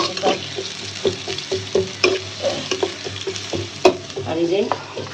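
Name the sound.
onions and spices frying in a pan for rohu fish curry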